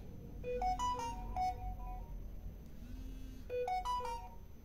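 A mobile phone rings with an incoming call, playing a melodic electronic ringtone phrase that repeats clearly and close by over a steady low hum.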